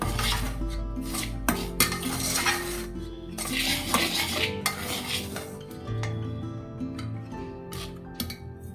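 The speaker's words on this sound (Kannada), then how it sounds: "ಮೊದಲು ರವೆ ಮತ್ತು ಹಿಟ್ಟನ್ನು ನಾನು ಚೆನ್ನಾಗಿ ಮಿಕ್ಸ್ ಮಾಡ್ಕೊತೀನಿ" A spoon clinks and scrapes against a bowl while semolina and flour are stirred together for ragi dosa batter, a steady run of close, sharp metallic taps and scrapes with no talk.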